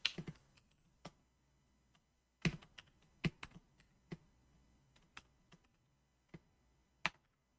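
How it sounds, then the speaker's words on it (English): Sparse keystrokes on a computer keyboard, irregular clicks and taps with pauses between small clusters, close and fairly quiet. "I'm just typing."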